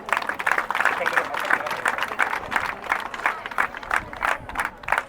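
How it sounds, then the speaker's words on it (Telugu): A crowd at a Telangana Police SHE Team 2K run prize ceremony in Peddapalli breaks into applause, with uneven rhythmic clapping and voices talking over it. "క్లాప్స్."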